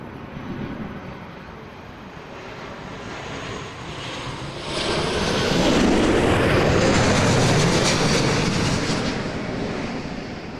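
A departing airliner at Toronto Pearson airport roars at night, swelling from a distant rumble to a loud, broad peak midway through and then easing slightly as it climbs away.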